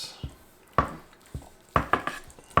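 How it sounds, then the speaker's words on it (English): A knife slices into a chuck roast cooked on a Char-Broil Big Easy, giving several sharp, close taps and scrapes against the board at irregular intervals, with no talking. "I'm gonna start on this side over here and see how she cuts"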